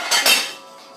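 A frying pan is pulled out and knocked against other cookware in a kitchen, giving two quick loud metallic clanks that ring out and fade, with no talking.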